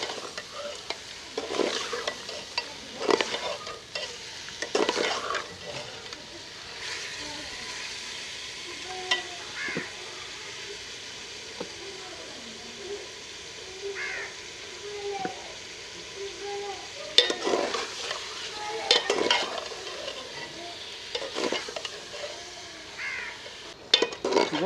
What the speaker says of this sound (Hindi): दो 3 मिनट के लिए अदरक और प्याज के मिसाले में गोश्त को भून लेंगे।